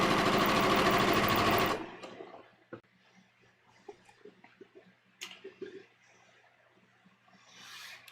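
A sewing machine stitches the neckline of a bias V-neck dress in a fast, loud burst that stops abruptly, followed by quiet handling clicks and rustles of fabric.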